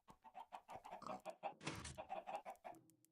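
Chickens cluck in Minecraft, a quick run of soft repeated clucks with a brief burst of noise in the middle, faint and without talk.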